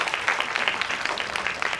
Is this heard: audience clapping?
yes